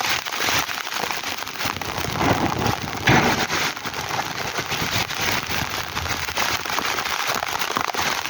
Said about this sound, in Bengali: কল্যাণী নদিয়া জেলাতে প্রচণ্ড জোরে বৃষ্টি হচ্ছে।